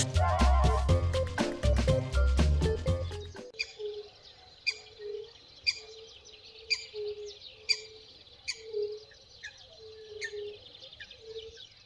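Music plays briefly, then stops, leaving a coot calling alone with repeated short chirps and whistled notes at a steady, unhurried rhythm.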